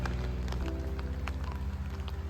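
Rain falls in a narrow residential alleyway in Sendagaya, Tokyo: a steady, close patter of drops on hard surfaces over a low constant hum, with no voices.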